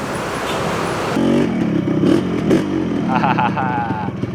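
A Yamaha RX 100 motorcycle engine idles and revs nearby with a rough, rattling two-stroke burble, while someone talks over it.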